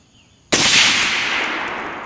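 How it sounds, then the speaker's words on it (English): Single loud 6.5 Creedmoor AR-10 precision rifle shot, a sharp close crack after brief quiet, followed by a long ringing decay that fades slowly. "Let's shoot one more just to make sure that it wasn't me that pulled on that last shot."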